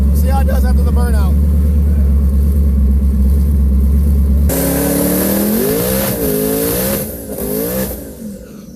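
A car engine revs hard during a burnout: a loud, dense roar that then climbs and falls in repeated surges of pitch, close and continuous.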